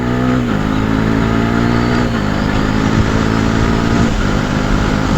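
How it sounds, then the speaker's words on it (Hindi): A Bajaj Pulsar NS400Z motorcycle fitted with a slipper clutch runs loud and close, its engine note stepping up and down as gears are shifted without the clutch, with no voices over it. "अब देखना मैं गियर अप भी बिना क्लच करूंगा और डाउन भी।"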